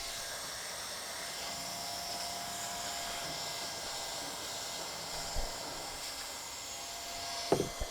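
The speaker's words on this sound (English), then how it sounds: "Let me finish welding this up." Hot-air welder sealing a pourable sealer pocket on a roof: a steady, even blowing whine that holds throughout, with a faint clack just before the end and no talking.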